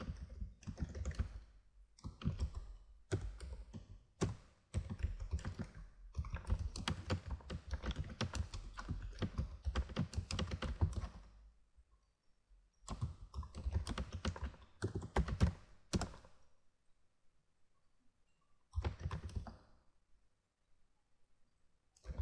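Typing on a computer keyboard while writing code comments, with bursts of rapid close key clicks broken by short pauses and a final brief flurry.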